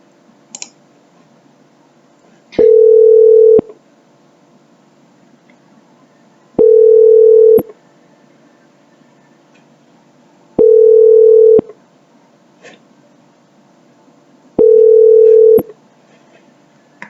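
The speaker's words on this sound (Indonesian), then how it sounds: "Dan di sini saya akan melakukan panggilan balik ke HP saya." Ringback tone from a laptop placing a call to a mobile phone: four loud steady tone bursts of about a second each, evenly spaced roughly four seconds apart, with faint clicks between them.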